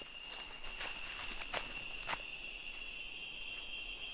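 Steady, piercing high-pitched cicada buzzing fills the jungle air on Redang Island continuously, with a few faint rustling steps passing underneath.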